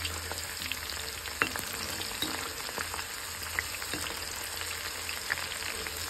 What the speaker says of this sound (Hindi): इसको भी हम हल्का सा फ्राई कर लेंगे।